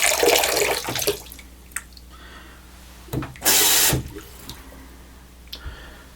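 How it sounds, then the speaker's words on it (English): Water splashes briefly onto a hard puck of shaving soap, with a stronger pour around the middle of the moment and a few small drips and taps afterward, close and fairly quiet. "If you lay some water on top of it first"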